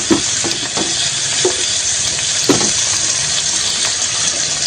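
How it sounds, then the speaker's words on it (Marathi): Onion and tomato sautéing in a pan, a loud, constant close sizzle with a few scattered scraping knocks from stirring now and then, and no voices. "कांदा छान असा परतत आलेला आहे आपल्याला तर अजून पाच मिनटं आपण परतून घेऊया"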